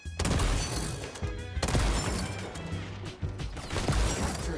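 Gold TAC-50 sniper rifle shots in a first-person shooter video game ring out as several loud, sharp cracks, each with a short booming tail, spaced irregularly across the moment.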